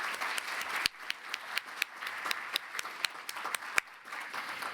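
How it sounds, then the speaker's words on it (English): Audience applause for the distinguished panelists at a UNESCO strategy launch, a steady indoor patter of many hands with a few sharper, louder claps standing out, moderately distant. "I would like a round of applause for our distinguished"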